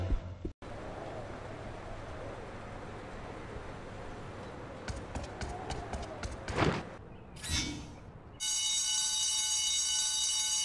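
An alarm rings in the Spider-Man video game, a steady electronic tone that starts abruptly near the end after a run of clicks and whooshes over a low background rumble.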